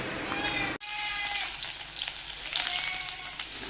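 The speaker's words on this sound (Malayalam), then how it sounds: "എണ്ണ ചൂടാകുമ്പോൾ കുറച്ച് കടുക് പൊട്ടിക്കുക ആദ്യം തന്നെ" Mustard seeds crackle and splutter in hot oil with a dense, continuous sizzle and sharp little pops, close and fairly loud after a brief cut at the start, with no one talking.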